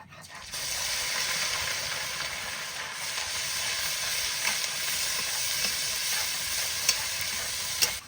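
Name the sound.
onion paste frying in hot oil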